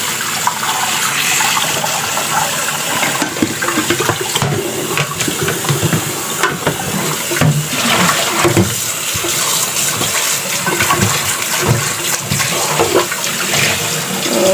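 Dried dates being rinsed under a running kitchen tap for a Chinese herbal soup, with a steady close splash and gush of water that continues for the whole stretch, and no talking.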